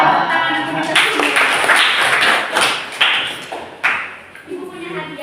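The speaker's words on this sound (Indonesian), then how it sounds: "Oke, tepuk tangan untuk kita semua." Students in a microteaching classroom break into applause, a dense burst of clapping that rises quickly, rolls on in uneven waves and tapers off, loud and close, with voices audible beneath.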